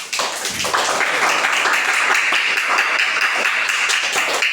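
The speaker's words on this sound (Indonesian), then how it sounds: "Tepuk tangan buat kalian loh." Students in a classroom clapping for themselves, a dense burst of applause from many hands that rises quickly and carries on steadily, close and loud.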